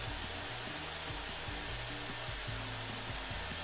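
A Dyson Airwrap hair styler with a curling barrel blows a steady, close hiss of air, faint overall, with low irregular thumps of handling beneath it and no talk.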